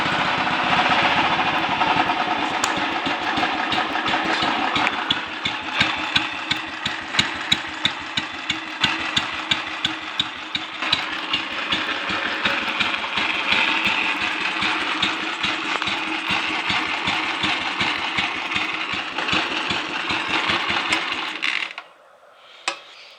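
A Royal Enfield 250 Clipper pre-unit single idles with a worn, noisy primary chain, a steady close engine rumble laced with rapid metallic ticking and clatter, before the engine cuts out near the end.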